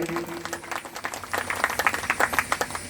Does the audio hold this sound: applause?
yes